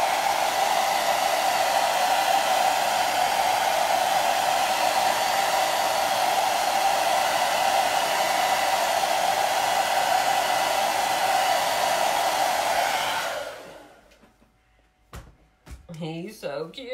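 A hair dryer blowing on chalk paste, a loud and steady whirring roar lasting about thirteen seconds before it switches off, followed by someone speaking.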